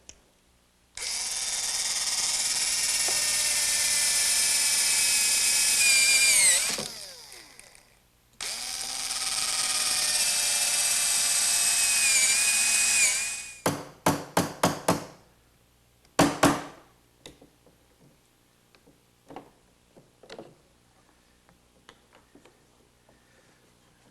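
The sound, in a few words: drilling recesses with a brad point bit in a workbench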